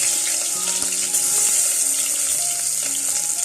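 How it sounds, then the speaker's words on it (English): Onions hit preheated oil in a pan and sizzle steadily, a loud, continuous hiss close up. Faint tonal sounds sit underneath. "I had preheated some oil and I've just added onions"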